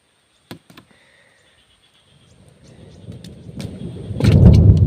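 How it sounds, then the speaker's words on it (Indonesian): Thunder rumbles and builds into a loud, deep roar during rain at an outdoor fishing spot, after a couple of sharp knocks and a quiet stretch, with no talking. "Wah, ngeri bro. Petir bro."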